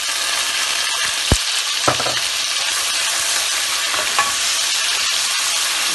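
Whole garam masala spices and ground onion fry in hot oil, giving a loud, dense, continuous sizzle close by, with a couple of sharp ticks from the pan or spoon.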